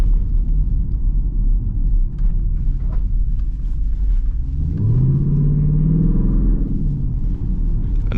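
A straight-piped SRT Jeep rumbles deep and steady while driving, then swells into a rising growl as the engine climbs and holds through a longer pull before easing back, with no talk over it.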